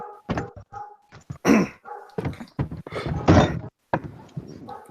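A dog barks repeatedly up close in irregular sharp bursts, some doubled, with thumping knocks between them and no talking.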